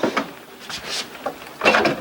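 Deep bedroom drawers in a 2020 Forest River Georgetown XL 369 RV slide open and shut, several quick wooden thumps and scrapes close by, ending with a firmer knock.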